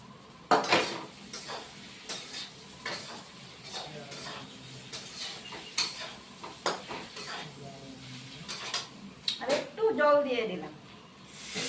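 Fried potatoes and squash go into a pan of catfish curry with clattering utensil strikes, scraping stirs and a soft sizzle, faint and close, in irregular bursts under quiet talk.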